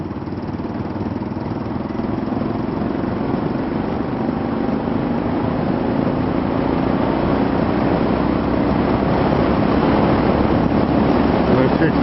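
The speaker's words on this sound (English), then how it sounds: "I'm just going to roll on the throttle." A motorcycle engine in fifth gear at about 30 mph as the throttle is eased on, a steady close drone that slowly rises in pitch over wind and road noise, with faint talk underneath.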